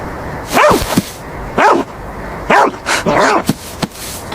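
A dog in an animated film barks sharply four times in quick bursts, close and loud, each bark with a whiny yipping edge, and no voices alongside.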